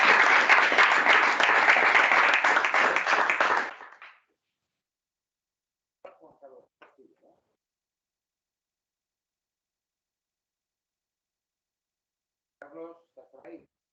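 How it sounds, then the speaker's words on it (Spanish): An audience at a session on local energy communities gives a dense burst of applause for about four seconds before it cuts off abruptly, followed by silence and a few short snatches of speech. "te vamos a dar un aplauso."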